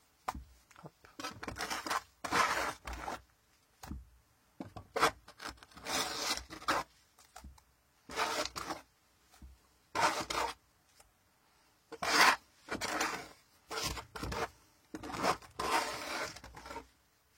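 Rough scraping of a homemade plaster imitation brick with sand mixed in, heard as repeated rasping strokes in short bursts separated by brief pauses, close and fairly loud.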